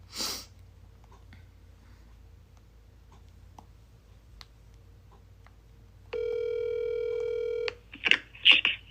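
A phone places a call to a congressional office: faint taps and handling, then a steady dial or ring tone held for about a second and a half, followed by close sniffs and breathy noises, with no talking.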